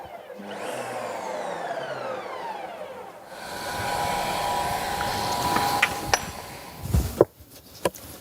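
Ninja Creami Deluxe ice cream maker processing coffee ice cream: a loud, high whirring motor that sweeps up as it starts, then settles into a steady grinding drone, with sharp knocks and clunks toward the end.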